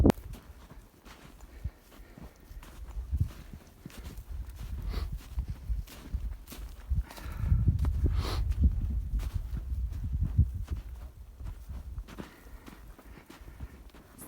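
A horse ridden on a cattle drive in Montana/Wyoming walks steadily, its hooves giving soft, rhythmic clip-clops close by, with outdoor rustle and a louder stretch midway.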